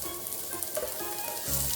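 Green beans sautéing in chicken oil in a home kitchen pan, a close, steady sizzle and crackle of frying with light stirring.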